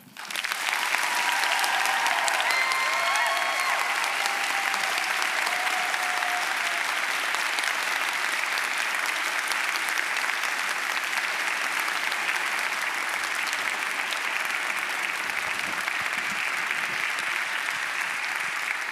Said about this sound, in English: Okay, you can stop clapping now.